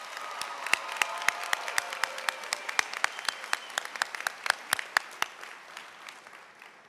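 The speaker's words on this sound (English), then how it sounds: "Please join me in giving our parents, guardians, and loved ones one more round of applause." Graduation audience at a Walnut Ridge High School ceremony breaks into sustained applause, dense overlapping claps from a large crowd filling the hall steadily throughout.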